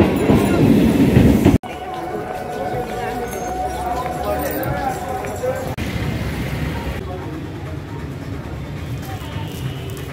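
After an abrupt cut, a local train bound for Habra rolls along with a steady, close rumble and faint rhythmic clatter, with some voices underneath.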